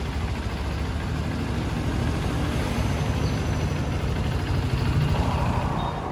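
Honda CRF150L motorcycle engine idling, a steady low rumbling putter heard close and continuous, with no talk over it.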